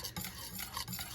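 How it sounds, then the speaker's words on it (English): Caramel sauce for caramel apple flapjacks bubbles in a pan as a utensil stirs it, giving soft sizzling and gentle scraping swishes in a few strokes, close and steady with no voice. "Can you tell how it's all melted, starting to bubble?"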